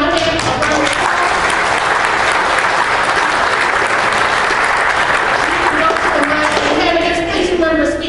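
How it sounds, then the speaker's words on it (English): An audience at a congressional candidate forum in Peotone claps in a dense, sustained round of applause that stays loud for several seconds and then thins as a voice starts speaking near the end. "Let's give them a round of applause."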